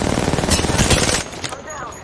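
Rapid automatic gunfire rattles loudly in the shooter game Apex Legends, a dense burst of close shots that cuts off abruptly, followed by a few scattered fainter pops.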